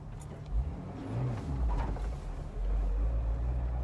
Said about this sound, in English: I can overcome it if I rev up the engine